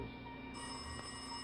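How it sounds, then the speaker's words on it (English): A telephone rings with a steady, continuous electronic bell tone at moderate loudness, heard alone without any talking. "Oh, our phone's ringing."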